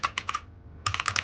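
Code typed on a computer keyboard, a quick close run of crisp key clicks in two bursts separated by a short pause.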